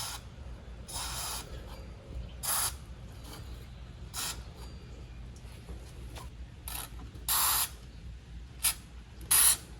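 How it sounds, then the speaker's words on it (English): White lithium grease sprayed through a 4-inch precision straw into a Chevrolet Colorado/GMC Canyon parking brake housing and connections: several short, close hissing bursts at irregular intervals over a low background hum. "I have inserted the 4-inch precision straw to give me a much cleaner and direct spray into the housing and connections"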